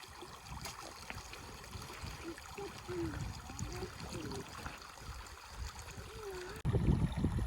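A creek trickles and burbles steadily nearby on a wilderness trail crossing, with a louder rush near the end.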